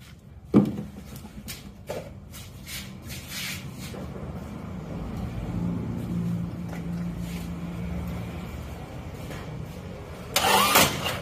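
An Isuzu Panther diesel engine, running poorly after a workshop repair and low on coolant, is cranked and fires into a steady rough idle that continues, with a sharp click at the start and a louder burst near the end.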